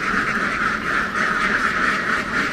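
A large flock of egg-laying ducks heading back to their pen on a farm in the Mekong Delta keeps up a dense, continuous quacking chorus, loud and steady throughout with no pauses.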